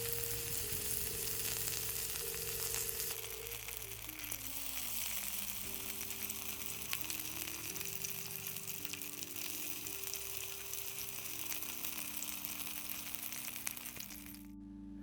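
Vegan kebab skewers sizzle steadily on a grill, a continuous crackling hiss with shifting low hum beneath, close and even throughout before cutting off abruptly at the end.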